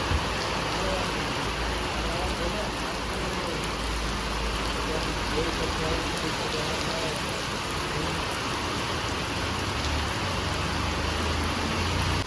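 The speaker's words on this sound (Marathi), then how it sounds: "जोर धरला पावसानं." Steady rain pouring down outdoors in the Konkan countryside, a dense, even hiss of drops on surfaces that holds constant throughout with no let-up.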